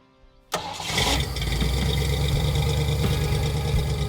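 A Ford Ranchero in a custom garage cranks and fires up with a sudden loud catch, then settles into a steady, rumbling idle close by.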